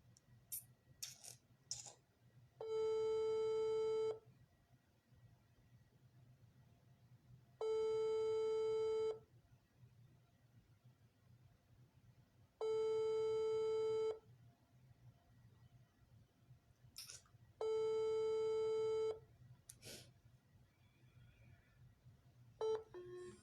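Telephone busy tone after the other party hung up: four long, steady, loud beeps of about a second and a half each, evenly spaced with pauses between, over low line hiss, with a few faint clicks at the start and end.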